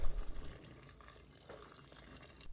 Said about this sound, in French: On ajoute maintenant de l'eau bouillante jusqu'à recouvrir tous nos légumes.